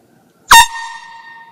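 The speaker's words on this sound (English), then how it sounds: "First time I've had an air horn, and this little thing right here, so loud." A small handheld air horn gives one very loud, sharp blast that rings on as a steady bright tone before fading over about a second, close to the microphone with no talk.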